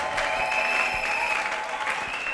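A church congregation at a Sunday service applauding and acclaiming the Lord, a dense, steady burst of clapping from many hands close by, with crowd voices mixed in.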